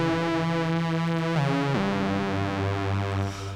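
A bright, buzzy synth lead patch built with the DRC synth holds a rich sustained note, then slides down in pitch to a lower held tone, playing alone.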